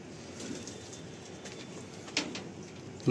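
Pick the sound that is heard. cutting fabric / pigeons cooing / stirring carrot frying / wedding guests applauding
pigeons cooing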